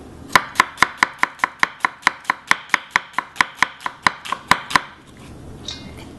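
A knife slices an onion on a cutting board for seasoned acorn jelly, making about twenty quick, evenly spaced crisp chops in a steady rhythm, close and clear, then stopping for a moment of quiet.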